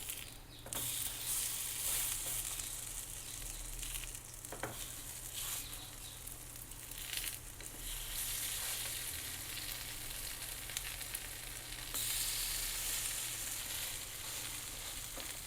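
Masoor dal chilla, a lentil pancake, cooks in ghee on a pan with a soft, unbroken sizzle that holds steady throughout, quiet and close with no voices.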